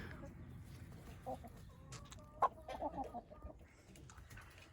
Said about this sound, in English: In the hen house now. Sun had just set, and I got all the chickens and ducks in here.